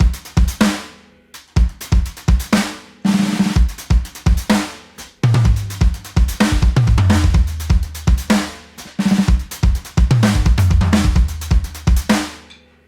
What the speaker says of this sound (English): It's like this broken hi-hat thing.